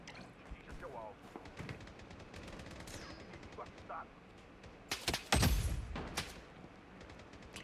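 Gunfire in an online shooter video game, several bursts of rapid automatic fire and single shots, with a heavier, louder volley near the middle, fairly faint against the background.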